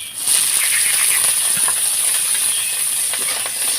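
Snails, drained of water and coated with turmeric and salt, hiss and sizzle steadily in hot oil in a wok, a loud continuous frying noise with no speech.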